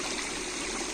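A shallow river flows past a traditional sandbag dam in a Kokan village, a steady, close, full rushing wash of water with no voices.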